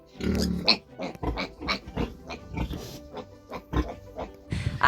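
Roughly ten-day-old piglets oink and grunt in repeated short bursts close by, squealing now and then, with a little background noise between the calls.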